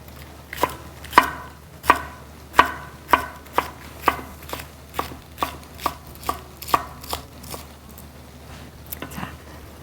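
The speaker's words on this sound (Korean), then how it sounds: "여기다가 마지막에 파를 좀 썰어 놓으면 맛있겠죠?" A knife chops green onions on a cutting board for brown rice tteokbokki in a crisp, steady rhythm of about fifteen close, sharp strokes with no talking.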